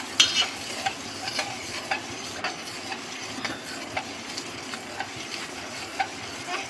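Spices are stirred into vegetarian khichuri in a pan, a soft frying hiss punctuated by regular scraping strokes of a spoon, close and fairly quiet, with no talking.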